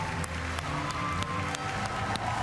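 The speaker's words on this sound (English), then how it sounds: "Okay, that is a genuinely enthusiastic crowd." An enthusiastic crowd at the E3 2017 Ubisoft conference cheers and applauds in a dense continuous roar, with distinct claps cutting through the noise.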